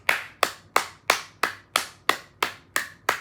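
Steady hand clapping, about nine sharp claps in a slow even rhythm, close and loud with no voices.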